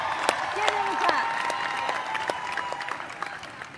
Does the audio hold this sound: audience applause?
yes